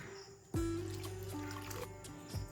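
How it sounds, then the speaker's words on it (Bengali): Water is poured into a bowl of flour for stuffed paratha dough. It runs as a short, steady near trickle lasting about two seconds against a quiet room. "সেই বাটি মেপে আমি জল দিয়ে দিচ্ছি"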